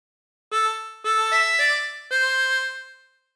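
A harmonica plays a meme phrase, four sustained reedy notes in a short melodic line, clear and close with no talk.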